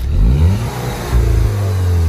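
A Volkswagen Golf 6 fitted with an aftermarket exhaust revs up close by, its engine note rising, dipping, then surging again into a sustained loud drone.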